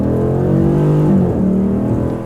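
Engine of a 2020 Dodge Challenger R/T Scat Pack Widebody Shaker 50th Anniversary, heard as a short, loud, deep rev that rises and then tapers off up close.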